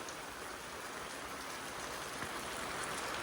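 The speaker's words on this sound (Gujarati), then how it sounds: "એ વરસાદ જો ધડબડાટી બોલાવે છે" Heavy rain pours down in a dense, steady roar of broadband hiss without a break, falling on surfaces close by, with no voices.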